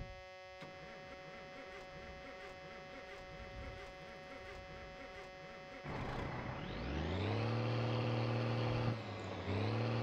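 A truck engine in the video game My Summer Car hums at idle, then cranks and catches, revving up and down unevenly in loud, wavering surges, with no talk over it.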